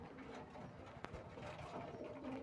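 Faint low cooing from a female Mukhi pigeon close by, soft throaty murmurs under a quiet background with one sharp click midway and no talk.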